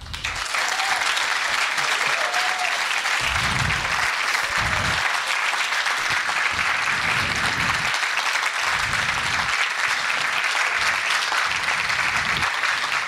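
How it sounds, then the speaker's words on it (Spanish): An audience gives sustained, dense applause for percussionist Gabriel Mesa of a percussion group, an even roar of clapping throughout with low drum or bass thumps rising in regular bursts underneath. "Y un fuerte aplauso, por favor, para el señor Gabriel Mesa."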